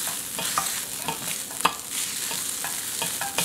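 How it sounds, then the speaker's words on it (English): Onions saute in vegetable broth in a pan, giving a continuous close sizzle broken by repeated scraping stirs of a utensil against the pan. "The onions are becoming more translucent as they're being heated."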